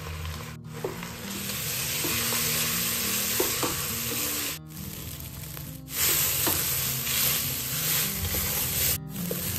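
Rice and moong dal are roasted and stirred in a pan, a close, continuous sizzle and gritty scraping that pauses briefly a few times before resuming.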